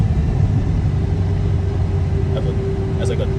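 A Dodge Hellcat engine rumbles low and steady from inside the car during a test drive, with a faint click near the end as it shifts gears.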